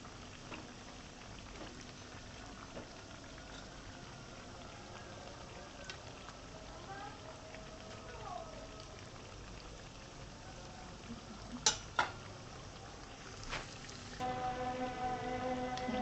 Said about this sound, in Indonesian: Ini kita goreng sampai menguning ya, sampai matang